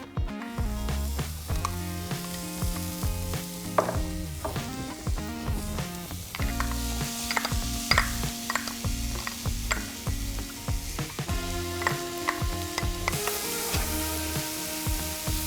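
Peppers and onion fry in a pan with a steady sizzle beneath sharp rhythmic clicks and scraping as they are stirred, close and moderately loud, with music running underneath.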